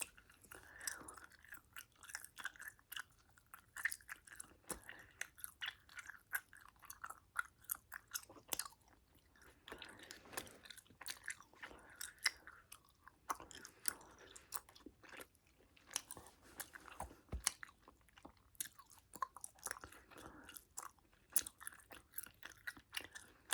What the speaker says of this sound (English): I have to chew this gum first for a minute